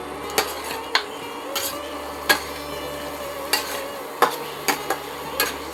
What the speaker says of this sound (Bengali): মশলাটা অনেকটা কষে এসছে, আঁচটা কমিয়ে কষালে না মানে মশলাটা ভালো কষে